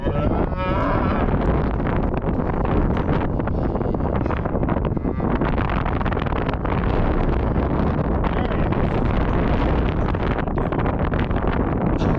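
Strong wind roars and buffets continuously across an open ranch pen where a cowboy ropes a calf, a loud, unbroken rush with cattle lowing within it.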